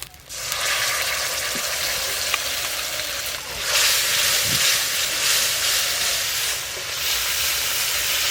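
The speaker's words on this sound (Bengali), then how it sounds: "এদিকে আদাও একটু ভাজা ভাজা হয়ে গেছে, এবার মশলার পেস্ট দিয়ে দেব।" Spice paste with ginger sizzles and fries loudly in a hot pan while cooking chana dal, a steady dense hiss that swells after a few seconds and carries on without pause, with no talking.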